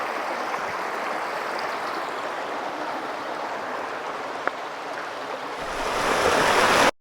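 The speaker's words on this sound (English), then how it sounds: "let's go ahead and cross the creek and go over to Thomas's." A creek flowing through flat land near an old mill site, a steady broad rushing of water that swells louder toward the end as if drawing closer.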